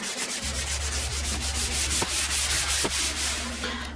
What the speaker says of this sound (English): So yeah, keep scrubbing here. Also the sides.